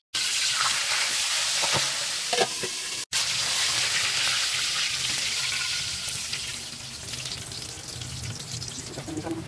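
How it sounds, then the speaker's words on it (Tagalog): Milkfish (bangus) frying on a home stove burner, a steady broadband sizzle with scattered pops and crackles that eases slightly toward the end, with a brief dropout near the start. "sinalang na po ni Nelson yung piprito niyang bangus sa kabilang kalan"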